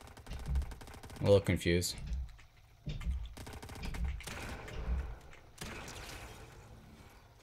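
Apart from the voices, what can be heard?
gunshots in the video game Fortnite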